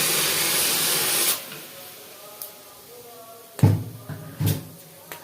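A kitchen pressure cooker boiling potatoes lets out a loud burst of steam hiss at the start, then cuts off, followed by a few sharp knocks and clatters against quiet background.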